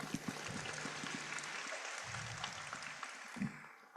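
Audience applause at a formal conference session on progress in Africa, a steady wash of clapping with a few sharper claps, fairly distant and continuous throughout without talk.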